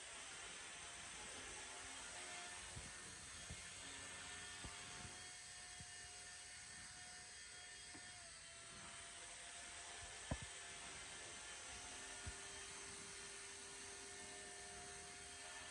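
A Blade Revolution 90 micro RC helicopter flying indoors whirs in a steady, high-pitched rotor drone at close range, with occasional faint clicks and taps.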